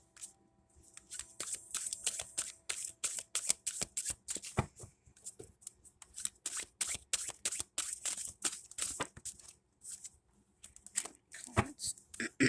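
Tarot cards are shuffled by hand in a long run of quick, crisp riffling bursts, close and clear, with short pauses between flurries and no speech.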